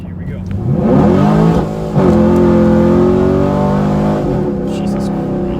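A 2013 Chevrolet Camaro SS in automatic sport mode accelerates hard, its loud close engine revving up in rising sweeps with a brief dip at a gear change, then holding a strong roar.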